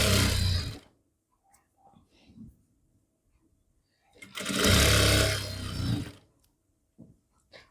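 A sewing machine stitches elastic into a pair of pants in two loud, steady runs, each lasting about a second or two and separated by quiet handling sounds.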